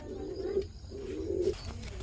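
Soft, low cooing of racing pigeons, two drawn-out rolling coos close by over a faint background hum.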